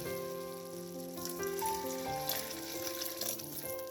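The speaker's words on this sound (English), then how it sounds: "I'm going to add in 1 cup of water to it" Water is poured into eggplant curry sizzling in a pan, a steady crackling frying hiss continuing throughout, close and moderately loud, with no talking.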